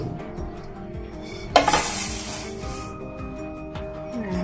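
Roasted food scraped from a pan onto a plate over a low flame, a sudden close burst of scraping and rustling that fades over about a second against a quiet background hum.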